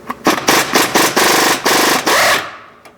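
A pneumatic impact gun rattles loudly up close on a wheel bearing bolt of a 2017 Nissan Rogue, firing in several short hammering bursts of varying length before it stops.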